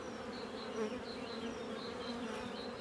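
Honeybees buzzing around a beehive, a dense, steady swarm hum close to the hive with individual bees droning past, continuous and fairly loud with no talk.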